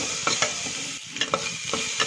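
Chopped onion and ginger garlic paste sautéing in a pan for tomato broccoli soup, a steady sizzle broken by several sharp spoon scrapes and taps against the pan.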